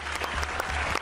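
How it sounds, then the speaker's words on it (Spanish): An audience breaks into dense, continuous applause, a brief burst of many hands clapping at once with no voices. "Aplauso, aplauso, aplauso, aplauso."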